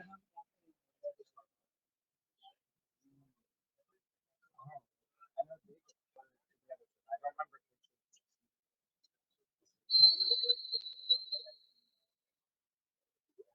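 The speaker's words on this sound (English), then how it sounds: "There's the whistle." A referee's whistle sounds at a robotic football championship game, a single sustained shrill blast standing out over a quiet background with scattered soft clicks and taps.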